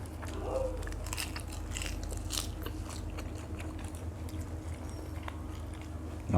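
Crunchy chewing of grilled pork, including grilled pork tongue and intestines, eaten with sweet leaf vegetables; close, steady biting and crackling runs throughout with no talking.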